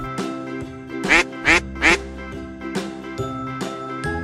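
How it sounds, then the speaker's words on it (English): A toy or cartoon duck quacks three times in quick succession over a tinkling children's alphabet song, loud and close. "duck."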